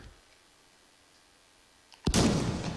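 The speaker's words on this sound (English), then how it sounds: "Yep, that was the Cannonball, aka fireworks." A shotgun in Hot Dogs, Horseshoes & Hand Grenades fires a Cannonball firework round: quiet handling clicks, then one sharp loud blast with a lingering crackling tail.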